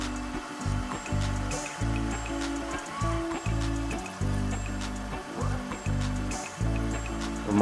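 Water gushing out of a Jet 100A Omnigena pump that is failing to pump properly: an uneven, pulsing splash of flow with a rhythmic low motor thrum beneath it, steady and close.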